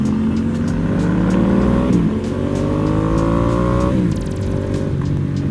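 A Ducati Diavel 1260 motorcycle engine rises in pitch under throttle, drops back, then climbs again in repeated loud revs heard up close.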